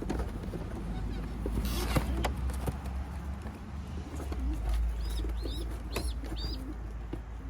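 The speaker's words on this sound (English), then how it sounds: "the birds instinctively want to go up" Pigeons coo softly in a loft in a series of low warbling calls, with a few higher chirps, over a steady low rumble and some background voices.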